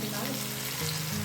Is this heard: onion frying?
yes